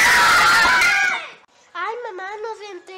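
A woman screams loudly and up close in a long, harsh cry that trails off and breaks into silence, followed by raised, agitated speech from another voice.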